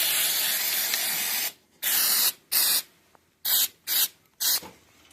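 Close, loud aerosol hiss of rubberized undercoat spraying beneath a Ford Model A gas tank, one long continuous burst followed by several shorter spurts with brief gaps.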